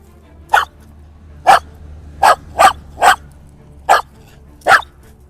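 Seven sharp, separate barks from a single dog, evenly spaced over a few seconds, close and loud over a low steady background hum, with no talking.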